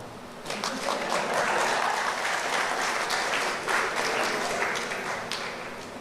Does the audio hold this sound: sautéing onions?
no